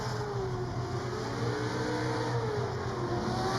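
Drift car engine revving hard on throttle at Orange Show Speedway, a steady loud high-pitched roar with rising and falling pitch, sustained throughout and heard from a distance.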